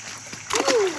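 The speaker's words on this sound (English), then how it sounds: "Splash you on your face." Cold, clear water splashes onto a face in a short burst, with voices talking around it and a rising exclamation over the splash.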